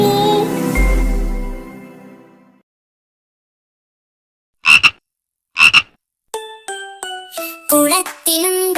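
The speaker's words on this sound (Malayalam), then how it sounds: "കുളത്തിലുണ്ടൊരു തവളച്ചാർ, പോക്രം കരയും തവളച്ചാർ" Frogs croaking in a children's song, a few loud, close, rhythmic croaks that stand alone after sustained musical tones.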